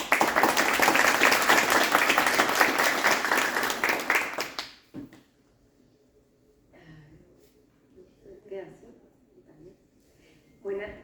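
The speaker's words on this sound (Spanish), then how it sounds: "Un aplauso para ella." An audience at a Spanish-language fertility seminar applauds loudly for about four seconds, a dense wash of clapping that stops abruptly, followed by quiet room sound and faint, scattered noises.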